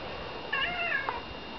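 A pet cat indoors gives a couple of short, close meows in quick succession over a steady background hiss, with no one speaking.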